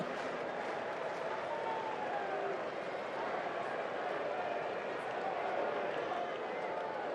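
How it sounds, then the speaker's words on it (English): A baseball stadium crowd cheers during a Yankees vs Dodgers game. A broad, continuous roar of many voices is heard at moderate distance, with people talking nearby. "Awful lot of cheering for the first inning."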